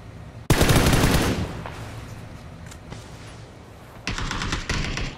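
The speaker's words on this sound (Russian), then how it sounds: "Слышит стрельбу." Gunfire in the video game PUBG during a league match, with a loud burst of rapid automatic fire that trails off, then sharper shots and another burst near the end, with no speech.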